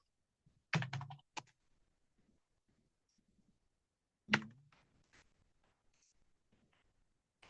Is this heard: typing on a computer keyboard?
yes